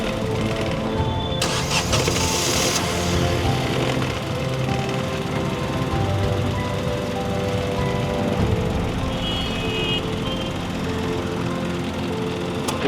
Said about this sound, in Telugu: ఓన్లీ ఇంజన్ లో కొంచెం కర్ర్ అని ఒక సౌండ్ వస్తుంది